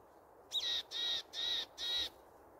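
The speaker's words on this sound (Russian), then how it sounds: "Вот видите, она за нами летит и чирикает." A bird following walkers in a forest gives four evenly spaced, harsh, high calls, each lasting about a quarter second, close and clear against quiet woodland background.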